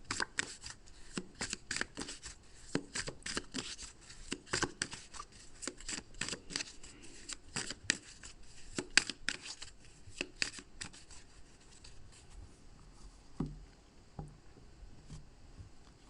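A deck of tarot cards is shuffled by hand, with a quick, steady run of crisp riffling flicks and slaps, close and clear, thinning out toward the end with a few soft taps.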